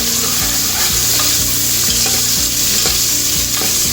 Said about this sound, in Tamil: வெங்காயம் கொஞ்சம் நேரம் வதங்கட்டும்